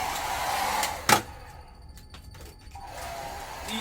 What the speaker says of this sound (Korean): 부착하면은 드라이기로 가열해주면 더잘 붙어요